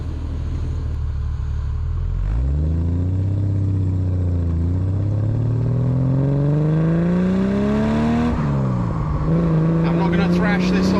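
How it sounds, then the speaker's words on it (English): A Triumph 2500PI straight-six engine drives past up close, its loud rumbling note rising smoothly through the revs, dropping at a gear change and then climbing again, with faint rattles alongside. "The straight 6 is a nice, torquey engine"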